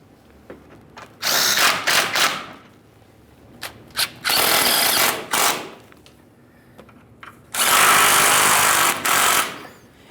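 A power tool, likely an impact driver, runs in three long bursts as radiator mounting bolts are tightened on a 1998-2011 Ford Ranger 2.3L, loud and close, with short pauses and small clicks between runs.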